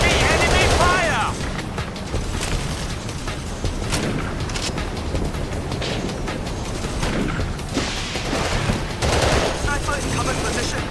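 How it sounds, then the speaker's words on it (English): Dense rattling machine-gun bursts and scattered gunshots crackle continuously through a Battlefield 2: Modern Combat battle, loud and close, with voices shouting over the fire. "Heavy enemy fire."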